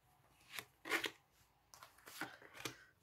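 Cards are shuffled for a tarot reading in a series of quiet riffling bursts, about five short swishes spread over a few seconds, close and soft.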